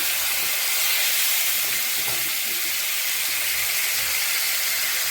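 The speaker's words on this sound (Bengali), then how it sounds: "তো অল্প তেল দিয়ে মাছটা ভাজা বসালাম।" Fish sizzling in a small amount of hot oil in a pan for a Bengali fish curry, a steady close hiss of frying with a few faint pops and no talk throughout.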